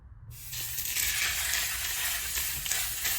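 Pork chops hit a hot stainless steel pan and break into a loud, steady sizzle that holds close and constant, with no talking.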